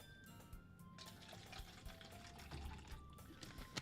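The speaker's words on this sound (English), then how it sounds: "Pour some more water in there." Water pours in Doki Doki Literature Club, a faint trickling, splashing stream running steadily over a couple of seconds with small clinks mixed in, no talk over it.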